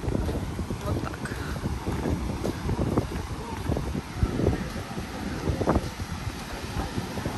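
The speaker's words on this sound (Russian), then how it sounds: "Очень большой ветер и очень много волн." Strong wind buffeting the microphone in gusty rumbles on a beach at Rimini, with a broad wash of surf and waves behind it; no clear speech stands out.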